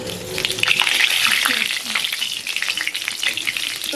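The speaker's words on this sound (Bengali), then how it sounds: "এটাকে ফোড়ন দেবো।" Dried chili, cardamom and a small piece of cinnamon sizzle and crackle steadily in hot oil for tempering, a dense continuous frying hiss with light stirring clinks, close and fairly loud.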